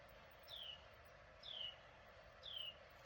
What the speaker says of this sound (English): I love the sound of the birds. That one's a really loud one.